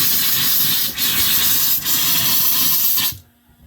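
Loud, continuous hissing rush of compressed air sputtering from an RV tap during winterizing, with two brief dips, then cutting off abruptly into near silence.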